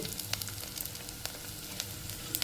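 Sabudana-rice fasting papads frying in hot oil, a steady close sizzle with scattered crackles and pops, no talking.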